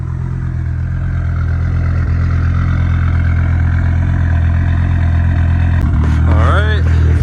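An Audi Urs6 with 230,000 miles idles steadily with a deep, loud rumble for several seconds, then a brief sharp rev rises and falls near the end.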